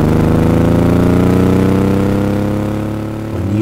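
A 1965 Jaguar E-Type Series 1 4.2 engine with Weber carburetors rumbles with a deep, throaty big-bore exhaust burble, steady and close, easing slightly in pitch near the end.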